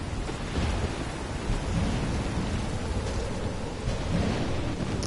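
Heavy rain pours steadily in a stormy scene from the game Life is Strange, with low rolling thunder rumbling beneath the downpour, loud and continuous with no voices.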